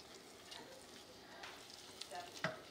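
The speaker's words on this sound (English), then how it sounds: "And now we're gonna stir that for 3 minutes until it thickens up." Flour and softened onions being stirred in a pan for a roux, a faint sizzle with soft scraping strokes and a few light clinks, quiet and close.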